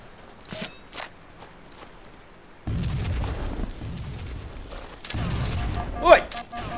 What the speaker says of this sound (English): Holy shit, I threw a grenade at myself somehow